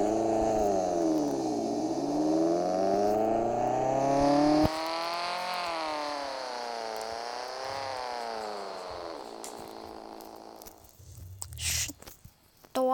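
A car engine in the Roblox driving game revs and drops repeatedly. The synthetic motor tone rises and falls in smooth sweeps, then cuts off abruptly and leaves brief scattered noises near the end.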